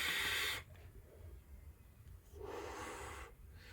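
Airy inhale drawn through a QP Fatality M30 RTA with airflow wide open, a soft hissing rush that fades, followed by quieter breathy draws, faint and close.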